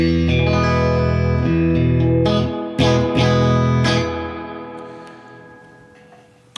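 Surf-style electric guitar through a Fender Twin tube amp with reverb turned up, loud chords with a few sharp accents, then a long reverberant decay dying away into near silence.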